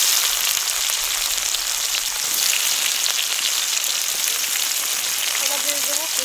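Chopped onions sizzle in hot oil with bay leaf, whole garam masala and dried chillies for a Bengali mutton curry, a steady broadband frying hiss throughout with a few faint tonal sounds near the end.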